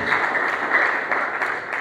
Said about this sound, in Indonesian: Beri tepuk tangan terbaik buat Tuhan.